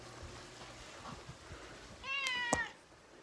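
A pet cat named Dora lets out a single drawn-out meow near the end, close and clear over quiet indoor room noise, with no talking.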